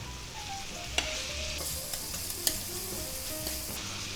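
Onions fry in a pan, a soft continuous sizzle with a few sharp clicks and utensil taps scattered through, quiet and close, no voices.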